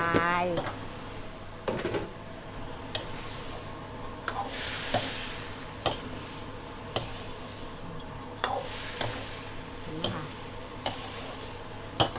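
Vegetables are stir-fried in a pan in a Thai kitchen. A spatula scrapes and knocks against the pan at a rough, repeating rhythm over a continuous close sizzle.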